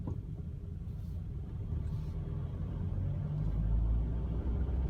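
Two oncoming cars pass on a road while the listening car slows, a low rumbling swell of road noise that grows louder and nearer toward the end, no talk.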